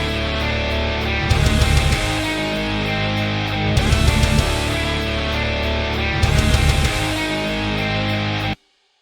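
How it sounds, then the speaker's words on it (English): Heavily distorted metalcore guitar riff in a song produced in Bitwig, played as a dense, driving loop over three rhythmic bursts of pounding low hits before cutting off abruptly into silence. "I've added that little guitar riff in there"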